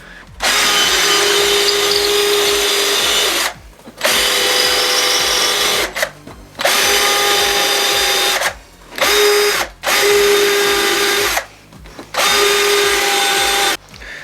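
A power drill drives screws into wood for a dowel joint, whining loudly in six or so bursts of one to three seconds, separated by short pauses.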